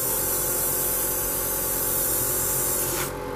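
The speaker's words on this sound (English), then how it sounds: "it's always like this, cleaning my airbrush" A hobby airbrush sprays continuously while being cleaned, a loud, steady close hiss that runs nearly the whole clip before tapering slightly at the end.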